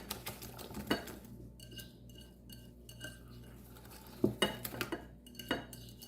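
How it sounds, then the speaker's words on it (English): A utensil stirs blueberry banana bread batter in a bowl, giving soft scraping swirls punctuated by a few sharp clinks against the bowl's rim, close and fairly quiet, with no speech. "And I'm gonna stir that in."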